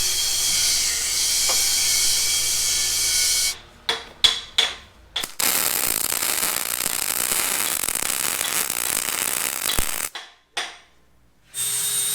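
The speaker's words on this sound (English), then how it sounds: "I'm gonna come back and weld these spots that I messed up right here." Welding on a Jeep WJ axle gives a loud, close crackling buzz in long runs, broken by short sputtering bursts and brief silences between welds.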